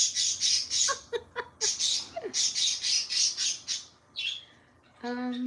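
Loud, harsh bird squawks repeat in bursts, close by, with a few shorter chirps and a brief harmonic call near the end.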